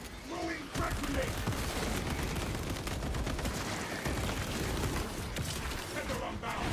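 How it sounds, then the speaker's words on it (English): Video game combat on hard difficulty, with a frag grenade blast buried in dense, continuous gunfire that stays loud and busy throughout, while a voice talks over the noise. "Throwing frag grenade."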